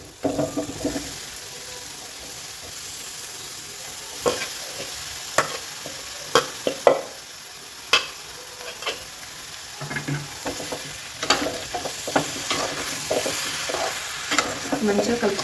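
Cooked nalla is stirred and fried in a pan: a constant sizzle under repeated clinks and scrapes of a spoon against the metal, irregular and close, with no talking.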